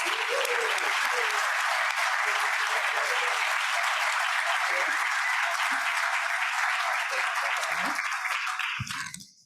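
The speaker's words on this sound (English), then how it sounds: "Let's give Theron a round of applause" Audience at a Rotary club meeting breaks into sustained applause, dense and even for about nine seconds before fading out at the end.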